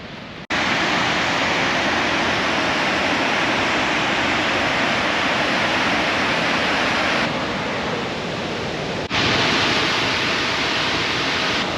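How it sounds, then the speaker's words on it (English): A waterfall on a tannin-stained brown river in Michigan's Upper Peninsula, heard as a loud, steady rushing roar close by, with a couple of abrupt level shifts and no talking. "So we're going to go check out this waterfall."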